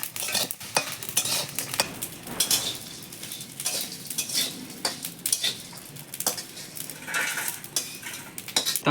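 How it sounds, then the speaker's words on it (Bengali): Whole spices including ginger, garlic, dried and green chilies, bay leaf, cumin, fennel and peppercorns dry-roasting in an iron wok, stirred with a metal spatula; rapid repeated clinking scrapes against the pan over a light sizzle, no talking. "কাঠকোলায় মশলাগুলো ভেজে নেব"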